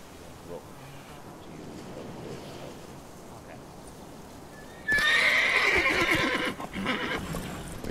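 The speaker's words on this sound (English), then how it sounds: "Gerald can always count on his horse, Roach, to help him in his travels" Roach, Geralt's horse in The Witcher 3: Wild Hunt, lets out a loud, close whinny after a stretch of quiet clip-clopping hooves over a low outdoor ambience with distant surf.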